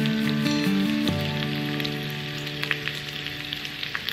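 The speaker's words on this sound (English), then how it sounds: "Go, there's the sizzle." Meat sliced into thin pieces sizzles and crackles steadily in a hot pan, a dense hiss with small pops, while a low steady hum from the kitchen sits beneath it for the first second.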